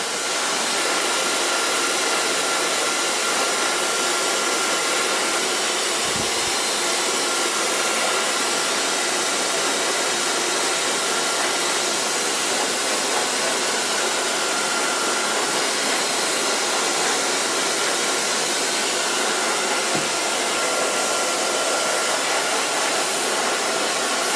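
A hair dryer blows steadily on freshly colored short pixie-cut hair in a salon, a loud continuous airy roar that runs unbroken for the whole stretch with no talking.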